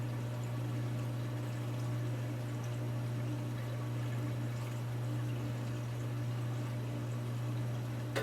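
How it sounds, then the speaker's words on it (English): Water pours into a homemade fish filter setup in a steady, continuous flow, close by, over a constant low hum. "I'm going to put a little bit of water in here."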